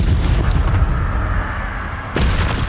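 In the Hogwarts Legacy video game, an Incendio fire spell bursts out as a loud, dense roaring whoosh that sustains briefly, then flares again near the end.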